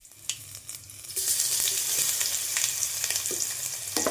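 Crushed garlic, chillies and curry leaves sautéing in hot oil for tamarind rice. It starts quiet with a few clicks and stirring knocks, then a loud, steady sizzle takes over, close and continuous, with occasional utensil taps.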